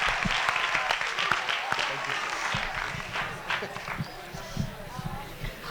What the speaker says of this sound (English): Let's clap hands for Akash Dasrath.